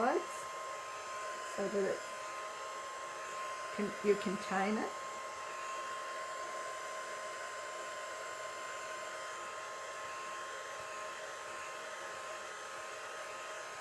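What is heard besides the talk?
hair dryer blowing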